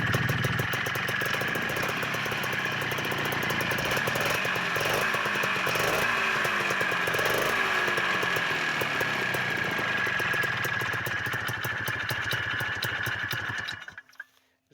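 A 1988 Ski-Doo Tundra LT snowmobile engine with a slipping, non-engaging clutch runs at a steady buzzing idle, loud and close for about fourteen seconds before cutting off abruptly at the end.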